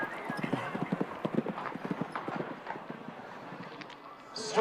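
Show jumping horse galloping in an arena at a CSI4* Grand Prix: steady rhythmic hoofbeats, close and clear for several seconds, with a commentator speaking over them and a brief bright noise at the end.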